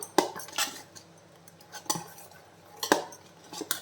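A spoon scrapes and knocks around a bowl while cowpea (karamani) dosa batter is mixed, giving a few separate clinks and scrapes spaced about a second apart, close and fairly quiet.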